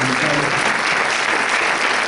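A church or parish conference audience gives a big round of applause, a loud, dense and unbroken roar of many hands clapping throughout.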